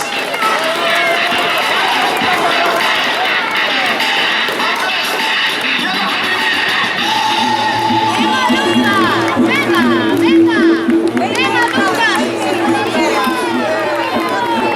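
Spectators line a running race, with steady crowd noise, voices shouting encouragement and scattered cheers rising in the second half as runners pass close by.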